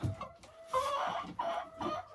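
Hens in a coop clucking up close, with several drawn-out, throaty calls one after another.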